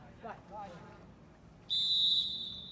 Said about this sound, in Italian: fischia il direttore di gara